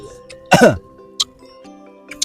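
A single throaty cough or throat-clear rings out clearly in a quiet room, followed by a couple of faint clicks and small sounds.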